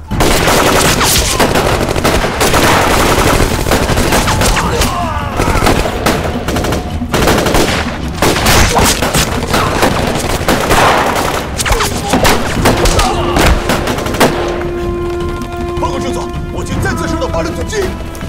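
A battle scene in a Chinese anti-Japanese war film, with Japanese tanks advancing: dense, loud machine-gun bursts and rifle fire roll on without pause, mixed with booms and shouted voices.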